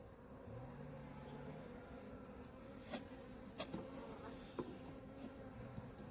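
A continuous low drone of many honey bees buzzing at an opened hive fills the air during a frame inspection, with a few soft clicks and knocks over it.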